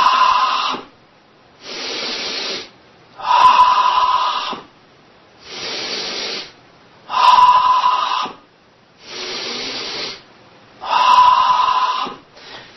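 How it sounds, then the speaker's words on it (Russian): During a breathing exercise, a person breathes in and out in a loud, close, rhythmic pattern of about seven hissing breaths separated by short pauses, with no speech. "Вы слышите, как я дышу"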